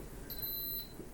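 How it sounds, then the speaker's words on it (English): A faint, high-pitched electronic beep sounds briefly in a quiet room, a thin steady tone that stands out only slightly over low background hum. "sorry about that beeping sound"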